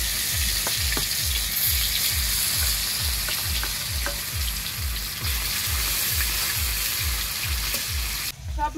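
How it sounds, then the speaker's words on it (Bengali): Fish frying in hot oil in a wok during village cooking: a loud, continuous sizzle with a steady rhythm of low thumps underneath, close and with no talking. "কড়াইয়ের তেল গরম হয়ে গেছে, এবার আমি মাছগুলো ভেজে নেব।"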